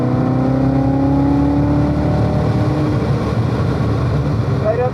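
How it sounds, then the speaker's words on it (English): A race car drifts in a four-wheel slide through turns 1 and 2 at VIR, its engine droning loud and close with a steady held note and slight pitch shifts under throttle, heard from inside the cockpit. "We're basically in a little bit of a four-wheel drift all the way around turn 1 and 2, managing my steering and my throttle."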